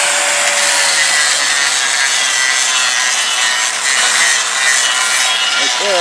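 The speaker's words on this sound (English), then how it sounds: "And now we're stick welding." Stick welding on a cracked backhoe part during a repair, a steady loud crackling hiss that holds without break from start to finish, close up with no talking.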